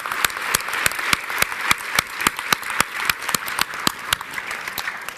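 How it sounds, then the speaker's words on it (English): Symposium audience at the EU Tax Symposium 2025 applauding a panel; a modest crowd clapping steadily, with distinct sharp individual claps standing out close by, moderate in loudness throughout. "big round of applause to this panel that has been responding to tough questions today."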